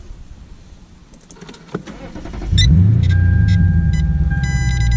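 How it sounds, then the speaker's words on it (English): A 2008 Lexus IS F starts up with a key click and engine rumble, then a steady electric motor whine as the motorized steering wheel adjusts, close inside the cabin. "This is a motorized steering wheel, so when you turn on the car, it will move."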